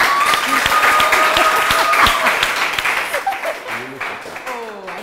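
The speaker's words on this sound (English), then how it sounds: "Ladies and gentlemen, give a round of applause." A studio audience gives a round of applause during a Ghanaian quiz show, loud clapping that gradually thins out as a voice starts talking over it.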